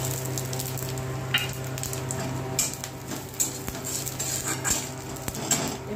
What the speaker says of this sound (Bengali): এখানে তেল গরম করতে দিয়েছি আর এখানে কয়েকটা ফোড়ন দিয়েছি।